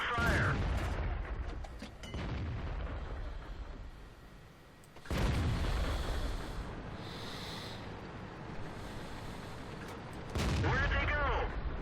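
A tank destroyer's gun in World of Tanks fires several heavy booming shots with short rumbling tails, spread apart in time, while a voice speaks in between.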